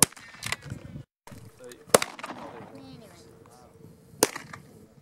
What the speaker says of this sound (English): shooting the Glock 9 millimeter